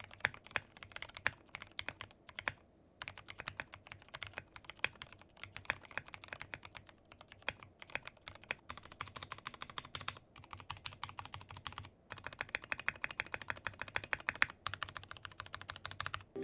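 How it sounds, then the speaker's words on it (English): Steady typing on a MelGeek Mojo68 mechanical keyboard fitted with new keycaps gives a continuous run of close, soft clacks with a deeper, thocky tone and brief pauses between bursts, no voices over it. "The keycaps have a deeper, thocky sound."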